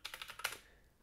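Quick, quiet typing on a computer keyboard, about eight light keystrokes in a short burst ending with one firmer tap, heard alone.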